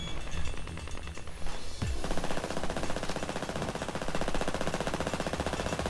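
Rapid bursts of carbine fire crackle continuously from the video game PAYDAY 2, loud and dense, with a brief sweeping whoosh partway through.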